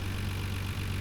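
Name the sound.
Nissan Skyline GT-R R32 RB26 engine running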